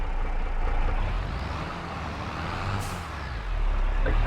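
Truck engine idling and rumbling in Farming Simulator 22, with a short hiss of an air brake releasing partway through, steady and fairly loud with no talking.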